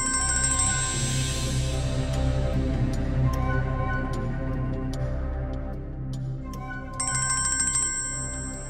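A phone ringtone rings in a repeating bright electronic melody, clear and moderately loud, pausing briefly before starting again over a low background hum.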